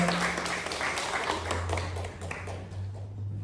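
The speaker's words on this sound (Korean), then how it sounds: "환영의 박수 하겠습니다" A Korean church congregation claps to welcome a newcomer, with a moderate patter of clapping over a low hum and a voice speaking alongside.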